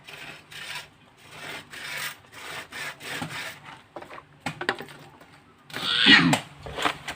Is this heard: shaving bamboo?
yes